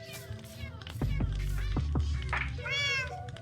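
A cat meows repeatedly in the Minecraft Bedrock survival game, with game sounds and a person talking around the calls.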